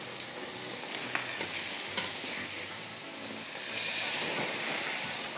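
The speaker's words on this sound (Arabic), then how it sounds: "بعدين بناخد الفراخ بتاعتنا ننزل بيها على الفحم" Chicken pieces hit hot charcoal, giving a steady close, loud sizzle and hiss with a few sharp crackles and pops, swelling louder near the end.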